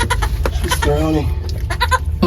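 A goat bleats with a wavering, harmonic cry in the middle of a farm scene where a struggling newborn kid has just started breathing, while a voice talks over much of the noisy, close recording.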